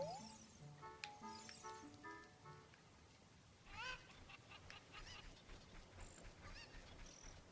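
Cucco chickens in the video game Zelda: Ocarina of Time, a flurry of squawky honking clucks in bursts over a quiet game background, some sharp and close, others fading.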